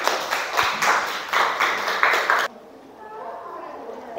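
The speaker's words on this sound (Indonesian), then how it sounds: "tepuk tangan dong untuk kita semua" A class in a chemistry lesson claps together in quick rhythmic bursts, several hand-claps in a regular pattern that cut off abruptly, leaving a quiet room tone.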